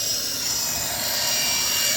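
Steady loud whine and whir of a running RC helicopter rotor, close and constant throughout with no voices over it.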